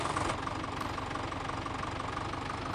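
Tractor engine idling in Landwirtschafts-Simulator 17, a steady low diesel chug with a regular knocking pulse, close and continuous, with no talking over it.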